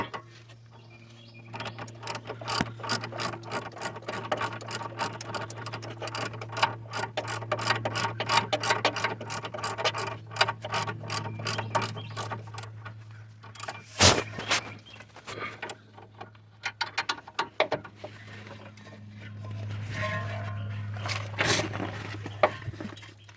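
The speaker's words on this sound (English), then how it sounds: "I'm gonna get my ratchet, and we are going to tighten." Hand ratchet tightening a stabilizer bar link on a Nissan, a long run of rapid, even clicking that speeds and slows, close and moderately loud over a steady low hum, with a clunk midway.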